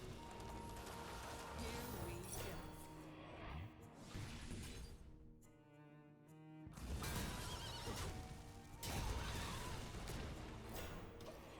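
Stylized horse neighs and whinnies from the Hearthstone card game, mixed with clicking, ratcheting mechanical effects and a shattering crash, layered busy game sound effects at fairly low level without talk.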